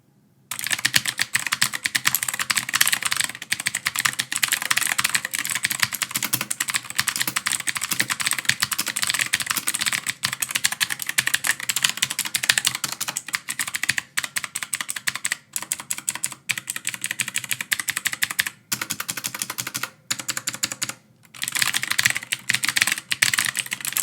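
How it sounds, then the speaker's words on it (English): Rapid, continuous typing on a budget mechanical keyboard, dense clattering keystrokes close and loud with a few brief pauses, no voices. "I'm no professional when it comes to mechanical keyboards, but as far as this one goes, I really like the way it sounds"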